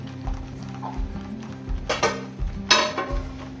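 A lid goes onto a pot of mango laddu mixture made from jaggery, mango pulp and cardamom, cooking on a low gas flame. There are a couple of sharp metallic clinks over a faint low hum.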